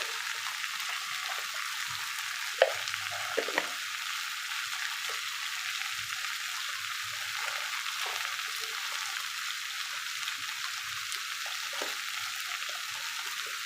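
Brinjal sautéing in a pan gives a soft, even sizzle that holds steady throughout, with a few faint clinks from stirring and no voices.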